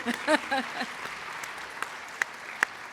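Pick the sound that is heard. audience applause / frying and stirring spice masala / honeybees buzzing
audience applause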